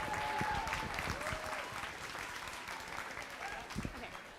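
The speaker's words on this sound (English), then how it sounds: "One more round of applause." Audience applause at a FIRST Tech Challenge robotics league tournament, steady crowd clapping in a large hall with a few whistles or squeaks, moderately distant and sustained throughout.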